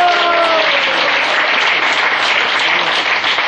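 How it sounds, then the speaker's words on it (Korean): Dense applause from a crowd at an alumni hiking club's annual general meeting and inauguration ceremony, loud and steady throughout, with a faint voice trailing off at the very start. "우리 다 같이 박수 한번 쳐주시기 바랍니다."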